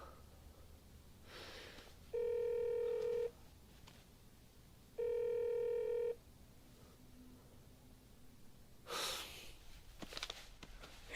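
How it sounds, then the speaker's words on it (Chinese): A mobile phone ringtone sounds in two separate tonal bursts, each about a second long, with a short gap between them. The surroundings are otherwise quiet, with faint breathy noises and no talking. "你手机一直响"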